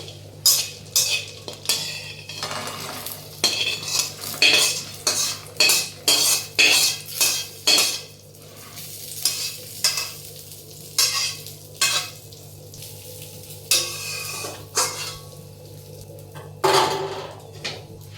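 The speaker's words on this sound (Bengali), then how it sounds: "দেখুন আমাদের কিন্তু বড়িগুলো ভাজা হয়ে গেছে এবার আমরা নামিয়ে নেব এক এক করে" Fried lentil dumplings (bori) are lifted one by one from a pan of hot oil, with repeated sharp metal scrapes and clinks of a spatula against the pan over a faint sizzle, in uneven bursts separated by short pauses.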